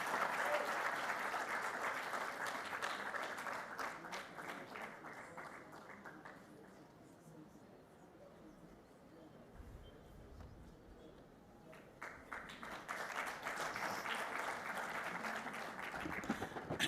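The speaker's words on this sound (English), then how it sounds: "You should be clapping" Audience at a World Environment Day and REMA 20th anniversary celebration claps loudly for several seconds, fades to a quieter murmuring stretch, then swells into a second strong round of applause.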